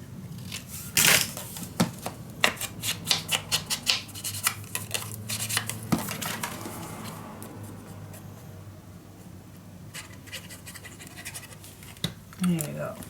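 Scissors cut a white edge off a patterned scrapbook paper page as a run of close, crisp snips and scratchy rustles, with quiet talk in the background.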